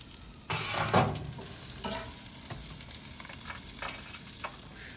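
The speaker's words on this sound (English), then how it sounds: "Then I spooned the luxurious mixture over the ribeye." Butter and herb mixture spooned over a grilled ribeye steak in a skillet, giving a steady close sizzle with a few soft scraping clinks of the spoon, alone with no talk.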